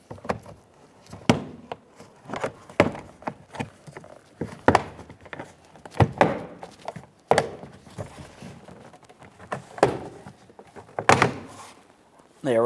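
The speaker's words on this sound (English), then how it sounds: "I'm using a plastic trim tool. Just make your way right in between this area and gently pry it apart." A plastic trim tool pries the door panel off a Jeep Patriot, producing a series of sharp clicks, thunks and snapping clip releases at irregular intervals, close up and fairly quiet.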